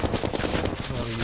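Enemies firing guns in Terraria, a quick run of rapid, evenly spaced shots, loud and close.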